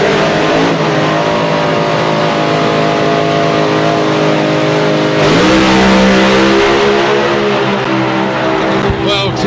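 A blown methanol Top Methanol drag race car revs loudly and accelerates at a Santa Pod qualifying event, its engine tone climbing in clear harmonics and surging midway, close and dominant throughout.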